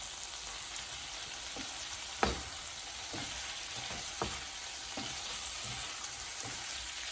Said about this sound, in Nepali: ग्यासको फ्लेम चाहिँ अलिकति सानो गरेर यसरी चलाइरहनु पर्दछ ताकि मसला नडढोस्